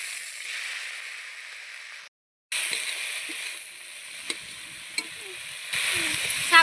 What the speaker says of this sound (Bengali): শাকগুলোকে তেলের সঙ্গে হালকা একটু নাড়াচাড়া করে নিচ্ছি।